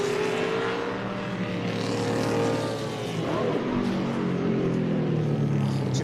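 Speedway race car downshifting into a corner at a racing festival, a loud sustained engine roar with shifting pitch sweeps, steady and fairly close throughout, no talk over it.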